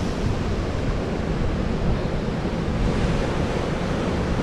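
Sea waves break on a rocky shore in a steady, loud, close roar of surf and wash, continuous without pauses, mixed with some wind noise on the microphone.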